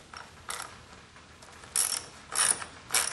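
A socket wrench on an extension ratchets on the cover screws of a Husqvarna 125B handheld blower, giving four short bursts of clicking separated by pauses, close and fairly loud.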